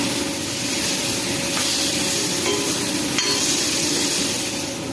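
Steady broadband sizzle of tomatoes with turmeric and coriander powder sautéing in a pan, continuous and fairly loud, with faint occasional scrapes of a spoon.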